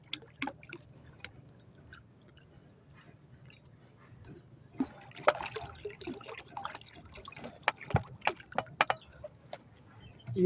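Medicine for pigeons is stirred into a container of water, giving soft liquid swishes and faint drips that grow into a busier run of splashy clinks and knocks in the second half, fairly close and quiet.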